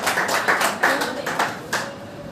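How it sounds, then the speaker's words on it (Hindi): A small audience at a Father's Day function in Karnal claps for a woman guest: a handful of loose, uneven claps in irregular bursts, fairly close and moderately loud, with no voices over them. "प्लीज जोरदार तालियां हैं मेरे मैडम के लिए"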